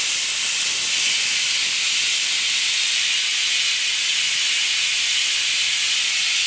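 A pressure cooker whistles steadily while cooking wheat pongal, a loud continuous steam hiss that goes on without a break, with no voices over it.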